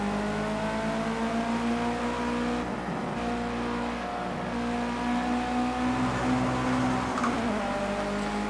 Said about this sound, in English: this Evo sounds so good here in Project Cars 2, especially all the blow-off sounds and the turbo whistle.